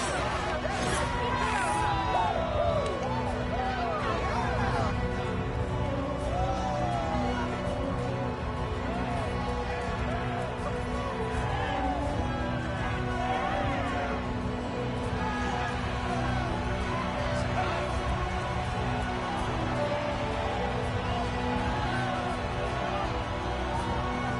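A capacity arena crowd in a UFC fighting game murmurs in a steady, broad roar with rising whistles and cheers, while a commentator talks over it throughout.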